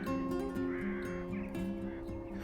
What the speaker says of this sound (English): Hundreds, if not thousands, of corvids, crows,